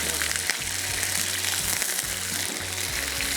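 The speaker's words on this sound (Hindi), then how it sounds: "और इसको करेंगे फ्राई अच्छे से।" Chicken pieces dropped into hot oil with water, hissing and sizzling loudly and close, with crackling spatters and pops over a steady fry.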